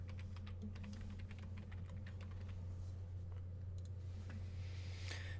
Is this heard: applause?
no